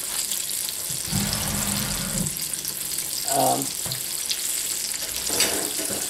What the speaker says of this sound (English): I'm just going to go ahead and fry it